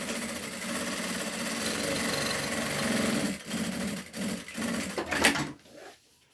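A sewing machine stitching a seam down the middle of a strap, running as a steady, close, motorized whir for several seconds, then sputtering in short bursts before stopping.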